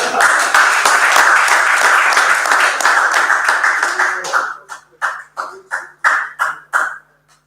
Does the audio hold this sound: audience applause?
yes